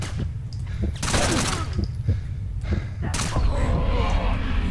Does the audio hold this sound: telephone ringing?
no